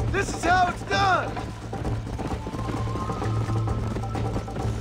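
Horse galloping in the video game Red Dead Redemption, rapid rhythmic hoofbeats pounding steadily across the stretch, with people talking over them at the start.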